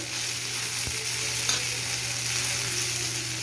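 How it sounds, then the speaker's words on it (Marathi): Tomato, ginger and garlic sautéing in a hot pan as a steady, close, even sizzle, with one brief clack of a utensil, no voices. "टोमॅटो थोडा परतून घ्यायचा आणि त्यात अद्रक लसूण पण थोडंसं परतून घ्यायची"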